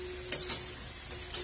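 Potatoes shallow-frying in oil in a pan, a soft steady sizzle with a few light stirring scrapes, quiet and close.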